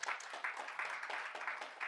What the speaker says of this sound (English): How about clap of praise to the Lord?